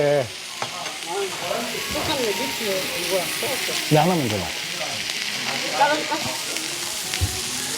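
Pork belly and thin-sliced beef brisket sizzle steadily on a hot grill, a constant crackling hiss, while people talk in Korean over it nearby.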